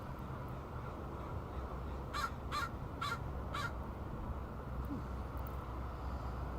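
A crow caws four times in quick succession, moderately distant, over a steady outdoor background hum.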